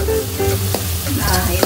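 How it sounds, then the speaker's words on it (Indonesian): Ground spice paste with candlenut sizzles loudly as it is sautéed in a pan for beef liver steak, with close frying crackle and occasional stirring scrapes. "Nah, ini bumbu yang sudah kita haluskan, kita tumis semua."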